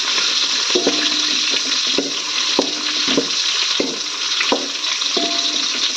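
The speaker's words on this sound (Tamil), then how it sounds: "ஸோ இது அப்படியே லைட்டாக ஃப்ரை பண்ணிக்கலாம்." Small native onions frying lightly in a home kitchen pan, a steady broadband sizzle with intermittent scraping clicks from stirring throughout.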